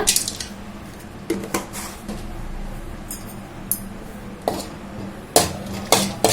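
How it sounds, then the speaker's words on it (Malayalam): Roasted split chickpeas go into hot oil in a pan, heard as scattered clinks and sharp scrapes of a spoon against metal over a low background, with several louder knocks near the end. "പൊട്ടുകടല ഇട്ട് കൊടുക്കാം."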